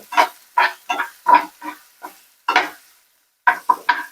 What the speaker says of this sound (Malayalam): ഇപ്പോൾ നമ്മുടെ സബൂല ഉണ്ടെന്ന് അത് കുറച്ച് സ്ലൈറ്റ് ബ്രൗൺ ആയിട്ട് നമുക്ക് കുറച്ച് ഫ്രൈ ചെയ്തിട്ട് എടുക്കാം